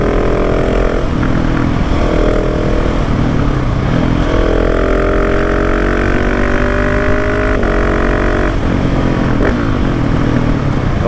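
KTM 690 SMCR 2019 single-cylinder supermoto fitted with a Wings exhaust silencer, revved repeatedly with loud rising and falling blips over a steady close-up engine rumble, no talking.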